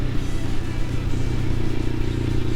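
An adventure motorcycle's engine holds steady in third gear on a downhill mountain road near Angel Overlook in Patrick County, Virginia, a continuous low rumble with faint clatter and wind, close and unbroken.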